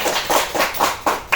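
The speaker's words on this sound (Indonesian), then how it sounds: "Tepuk tangan untuk temannya" Students in a classroom clap for a classmate in a short rhythmic pattern, about six distinct, fairly close group claps at a steady beat, each one a crisp burst with no talk.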